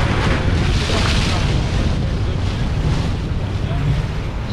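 A sailboat's engine drones loudly and steadily, mixed with rushing wind and water noise, constant throughout with no pauses.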